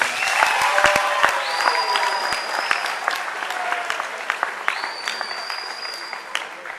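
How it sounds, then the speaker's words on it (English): Graduates at a high school graduation ceremony receive a sustained round of applause. Dense clapping comes from a large crowd, with occasional whistles and cheers rising above it throughout. "Please give them a round of applause for their accomplishment today"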